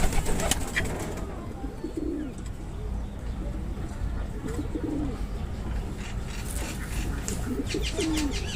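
Madrasi pigeons in an Indian loft coo in low, soft, repeated bursts against a busy, noisy background, with a few brief chirps and some faint talk nearby.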